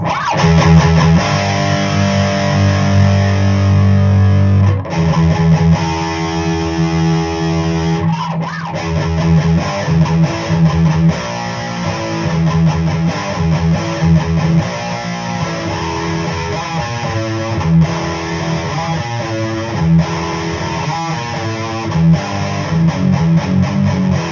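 Heavily distorted electric guitar through a JOYO Zombie II distortion pedal, gain halfway and tone turned down, chugs and rings out chords continuously, loud and dense with sustained gritty tone, no voices.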